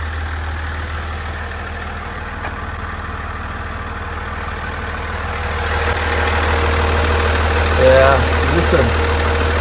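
A truck engine idles steadily while warming up on a cool 55-degree morning, a close, even rumble that swells slightly toward the end as someone speaks briefly over it.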